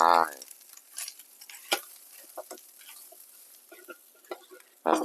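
Field rat meat dry-roasted with curry paste in a pan over low heat, quiet scattered scraping and tapping of stirring with faint sizzle, a brief voice at the start and end.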